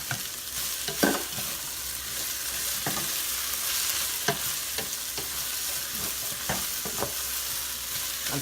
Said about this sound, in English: now I'm going to add my garlic. Cook this down for a little while